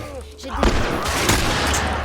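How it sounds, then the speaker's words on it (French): A rifle fires in The Last of Us, a couple of loud booming shots around the middle with a broad noisy tail, over constant dense game background. "Alors, je tire, je commence déjà à gâcher les munitions."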